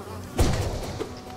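Insect buzzing from bees in the Hollow Knight video game, a brief close buzz with a soft thud at its start and a fainter buzz after, with little else around it.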